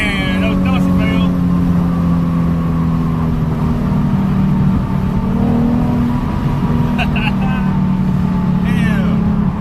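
A Nissan 370Z's engine drones steadily and loud through a first gear pull, a continuous tone that holds and slowly rises, with brief bits of talk near the start and end.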